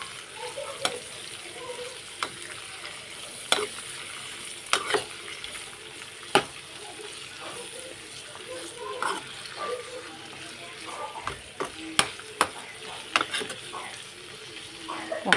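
Broad beans fry in a pan of oil with a constant soft sizzle, broken by scattered scraping clicks as a spoon stirs them, close and fairly quiet.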